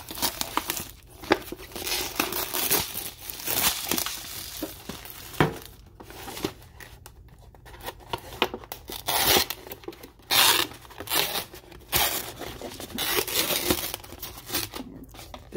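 Plastic packets of Peyoung Yakisoba Hell Spicy instant noodles are torn open and handled, giving close crinkling, crackling and ripping sounds in irregular bursts without talking.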